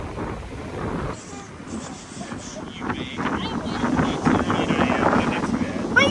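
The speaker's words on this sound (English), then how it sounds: "It's a little windy today, as you can probably tell from the audio" Gusty wind buffeting the microphone at an outdoor RV show in Tampa, Florida, rumbling and swelling louder toward the end, with a voice speaking faintly beneath the roar.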